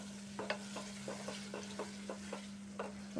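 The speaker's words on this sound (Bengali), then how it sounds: "এখন সরিষা বাটা দিয়ে কিছুক্ষণ ভালোভাবে কষাইতে হবে।" Snakehead fish being sautéed in mustard paste in a pan, with a soft, steady sizzle, a low constant hum, and a series of quiet, regular stirring scrapes.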